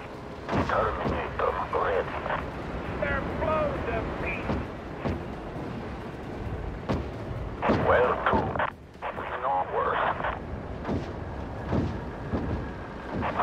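Artillery booms and gunfire from a base under attack in the Act of Aggression real-time strategy game, with repeated heavy thuds and crackling bursts under intermittent voice alerts.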